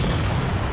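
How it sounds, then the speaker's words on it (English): Tank cannon blast in a Halo game, a single loud, close boom that fills the clip with dense, broadband rumble. "Hunters don't like tank shots."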